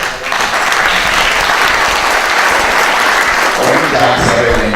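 A crowd claps steadily and loudly throughout, dense sustained applause with no pauses.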